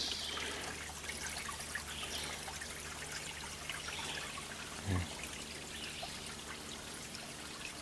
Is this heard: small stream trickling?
yes